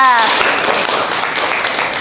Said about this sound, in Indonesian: Oke, tepuk tangan untuk Rimba.